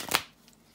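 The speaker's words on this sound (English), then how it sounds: "bear with me a second, guys, to shuffle the cards" A quick riffle of a tarot card deck, a short crisp burst of shuffling followed by near silence.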